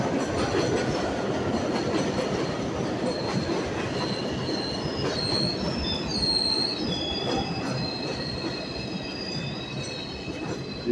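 Number 4 elevated subway train rumbling along the overhead track on River Avenue in the Bronx near Yankee Stadium, New York, with steady loud clatter and high squealing wheels throughout, no talk.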